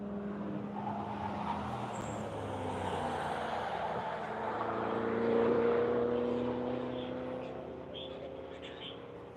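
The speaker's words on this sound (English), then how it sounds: "Lotus finishing up, and here comes the E-Ray." A Chevrolet Corvette E-Ray driving on a track, its engine rising as it approaches, swelling to a peak, then fading away, heard from a distance with a smooth rushing tone.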